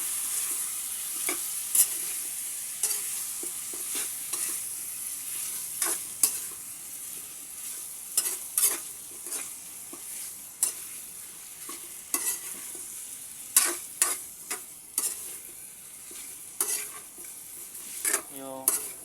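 Boiled chicken feet sauté in a pan over a steady sizzle, with frequent sharp scrapes and knocks from stirring, close by and with no voices.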